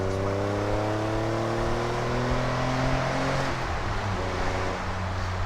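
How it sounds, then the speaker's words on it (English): A 1990 Nissan 300ZX engine blips up in revs on a downshift, then settles and pulls with a steady, loud engine drone close by; no voices. "Downshift, flip the throttle, no problem."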